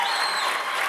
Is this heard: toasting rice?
no